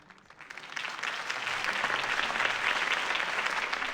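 A crowd in the Batman Telltale video game applauds after a campaign speech, a dense clapping that swells from quiet to a full, steady ovation and holds there, with no voices over it.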